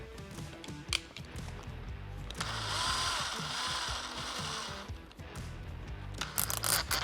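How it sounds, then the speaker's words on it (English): Small pilot hole drilled with a 1/16 inch bit while fitting a luggage rack to a Harley-Davidson touring motorcycle, a close, busy whir of the drill with clicks and taps around it and no voices. "So what we're gonna do is just drill a small pilot hole"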